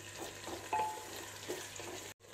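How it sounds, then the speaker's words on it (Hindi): Onions softening in a pan for mutton masoor dal gosht, a quiet steady sizzle with a few soft stirring scrapes, alone and fairly faint, cut off by a brief dropout near the end. "डालेंगे प्याज, और प्याज को इतना पकाएंगे कि प्याज थोड़ी सी सॉफ्ट हो जाए"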